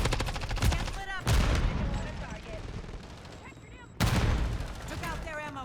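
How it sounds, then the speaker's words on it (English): Gunfire in Modern Warfare 3: loud bursts of automatic fire come in two separate stretches, sharp and close, with chirping game effects between them and a steady busy background. "Taking fire."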